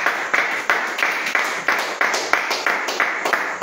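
A church congregation claps in a steady rhythmic beat, loud and close, about a dozen even claps with roomy echo and crowd noise underneath.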